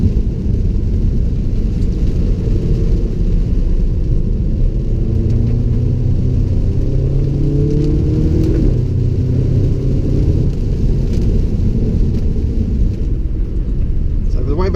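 A 2017 Audi S3 sedan engine under full throttle through a wet corner, a steady loud low rumble with rising tonal sweeps as it accelerates, continuous for the whole stretch with a faint voice underneath.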